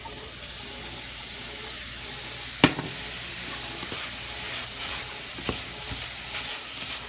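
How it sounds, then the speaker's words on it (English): Meat for jambalaya sautes in a pot with a steady close hiss, broken by a sharp utensil clack and a few softer stirring knocks. "Now while we're sauteing these, we're going to go ahead and add back in"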